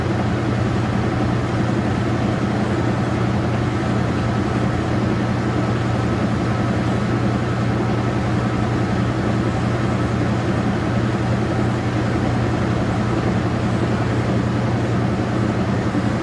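Constant loud rumbling whir of a Whirlpool washing machine on its final spin cycle, steady and unchanging throughout with no pauses or voices.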